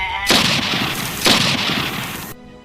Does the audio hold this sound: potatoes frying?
no